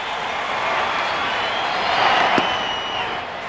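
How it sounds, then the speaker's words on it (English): A baseball crowd at an Oakland Athletics at Anaheim Angels game cheers after a base hit, a broad steady roar of many voices that swells briefly in the middle, with a sharp whoop or clap cutting through. "Crowd waiting to show their support. Got a little bit excited for that base hit there."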